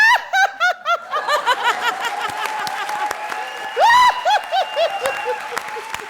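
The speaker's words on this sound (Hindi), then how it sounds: "जोरदार तालियां." A studio audience laughs and claps on a comedy show, with bursts of snickering and laughter rising and falling over scattered applause, loud and close.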